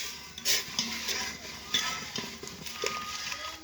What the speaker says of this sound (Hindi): और फिर चम्मच से इसको हिला देते हैं।